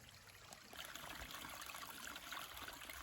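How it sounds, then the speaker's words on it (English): A river beside the Appalachian Trail trickles and rushes steadily, a dense broadband wash of water that swells slightly after the first moment and stays continuous, with no voices. "The trail follows a river."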